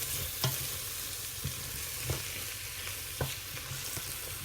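A bulgur mixture with cumin, pepper, sweet paprika and salt is stirred in a pan, with a continuous close sizzle and several distinct scraping knocks of the spoon spaced about a second apart.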